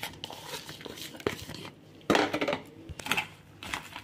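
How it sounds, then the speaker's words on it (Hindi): Paneer stirred into fried onions in a pan at home, giving a run of close scraping, clinking and soft clattering strokes with irregular rhythm and no talk. "और ये मैं इसे अच्छे से प्याज में मिक्स कर दूंगी।"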